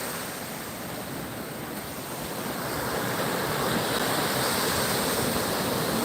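Ocean waves and surf roll in at Pensacola Beach on the Gulf coast, a continuous broad wash of breaking water with some wind noise, steady and fairly loud, swelling slightly partway through, with no one talking.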